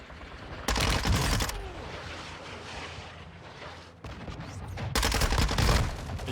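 Gunfire in the video game Warzone 2, loud rapid bursts of automatic fire in two clusters with a dense, rumbling battle din between them, no talking.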